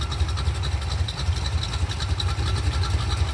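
A Chevy small-block 350 V8 fitted with quiet mufflers idles steadily nearby with a low, even, rhythmic chug and no talk over it.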